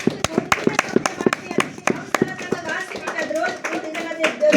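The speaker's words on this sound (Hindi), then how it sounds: "ताली बजाइए।" An audience claps hands in a lecture hall, a burst of sharp, uneven claps gathering together before fading into a murmur of voices.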